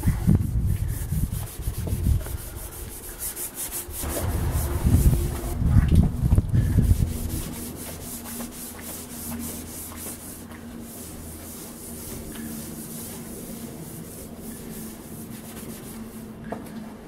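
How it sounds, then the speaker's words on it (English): A scratchy pad with washing-up liquid scrubbing a Volkswagen Golf headlight lens, close rapid rubbing strokes in irregular bursts for several seconds, then fading to a quieter steady hum. "So I've just got a bit of washing up liquid and a bit of a scratchy pad."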